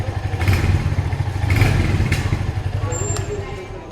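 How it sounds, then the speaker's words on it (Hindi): A 2025 Royal Enfield Hunter 350 motorcycle idles close by, its exhaust thumping in a steady, uneven beat with a few sharper clatters and a brief high tone near the end. "सो ऐसा था हंटर का एग्जॉस्ट नोट।"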